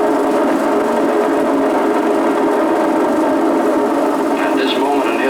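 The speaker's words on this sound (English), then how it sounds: "a new sound is heard in the world as giant missiles race skyward" Giant missiles launch skyward with a loud, steady roar that fills the whole stretch without a break, dense and rumbling, with a faint whine rising near the end.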